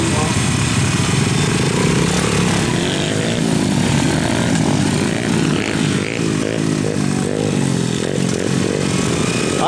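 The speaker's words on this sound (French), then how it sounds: "vous voyez là-bas avec la moto bleue, il met des grands coups de gaz" A blue motorcycle's engine revs in repeated big throttle bursts, its pitch rising and falling over a constant droning background, while people talk over it.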